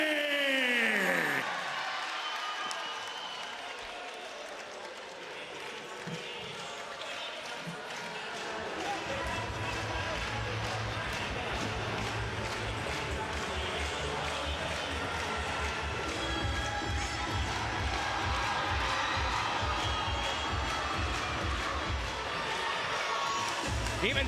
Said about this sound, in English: Make some noise for the little Hillbilly!